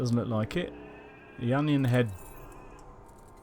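Sheep-like bleat from a phone notification heard twice, a short wavering call and then a longer one, with someone talking quietly in between.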